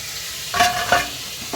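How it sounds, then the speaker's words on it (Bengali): Cauliflower pieces fry in a pan, giving a soft continuous sizzle with two short louder bursts of stirring or turning, close and without talk. "এখানে আমার ফুলকপি ভাজা হচ্ছে"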